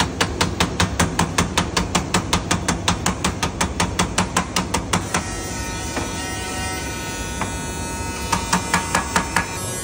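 An old, heavily worn hammer strikes repeatedly on a job squaring up edges to fit a new core, a fast steady run of sharp close blows that pauses midway and then resumes with a few more hits.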